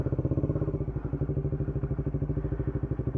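A motorcycle engine idles after a cold morning start, a steady rapid thumping pulse that is close and continuous, with no voices over it.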